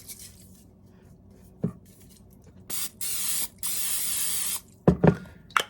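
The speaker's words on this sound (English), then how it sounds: "We spray it with non-stick spray." Several short hissing bursts of non-stick cooking spray into a mug, close by, separated by brief pauses, with a couple of light knocks at the end.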